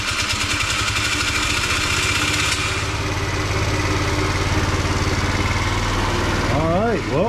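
A Tao Tao 50 scooter engine runs steadily just after starting, a loud, continuous buzzing idle with a rhythmic low putter throughout, and a voice briefly speaks near the end.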